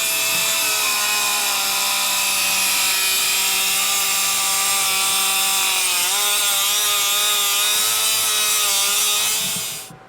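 A steady, loud, high-pitched whine of a power tool cutting about half an inch off the rear bumper of a twin-turbo 1969 Corvair, running continuously for ten seconds before cutting off at the end.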